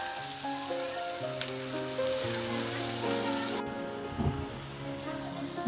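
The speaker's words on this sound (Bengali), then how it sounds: "পেঁয়াজগুলি আমি লাল করে ভেজে নেব।" Onions frying in oil in a pan over a medium flame, a steady close sizzle with crackling that swells and settles over a quiet background of music-like tones.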